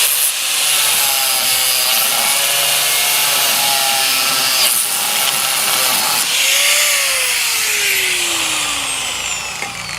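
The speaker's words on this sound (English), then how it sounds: "So I'm just using a grinder to cut the head off." A loud, continuous grinding screech of an angle grinder cutting the head off a bolt on a Terra Jet, with a shifting whine that slides down in pitch near the end.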